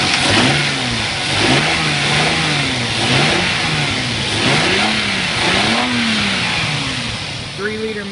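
A 1994 Lexus GS300 with its 3-liter inline-six engine running near and loud, revving up and down in repeated rising and falling swells, with a slight rattle from a pulley.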